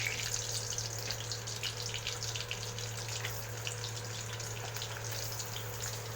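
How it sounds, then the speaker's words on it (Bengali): Potatoes frying in hot oil in a wok (kadai) on medium flame, a steady, continuous sizzle and crackle with no talking, close and fairly even throughout, over a low steady hum. "একটা কড়াইতে আমি আলুটা ভেজে নিচ্ছি আগেই।"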